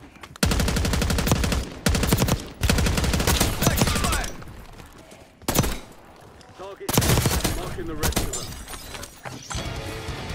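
Rapid automatic gunfire in Call of Duty, several loud bursts of fast shots with brief gaps between, mixed with game effects and a voice talking.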